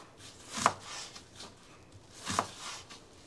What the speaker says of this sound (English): sometimes I cut them and you hear the sounds really loud